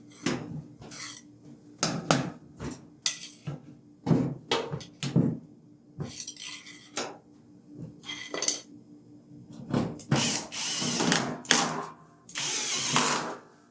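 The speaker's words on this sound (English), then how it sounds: "I use a large screwdriver to lift up the panel so that I can put the two screws back in that hold it in place." A screwdriver fastens screws back into the front panel of a washing machine, with sharp metallic clanks, scrapes and rattles in irregular clusters, some close and loud, with quiet gaps between them.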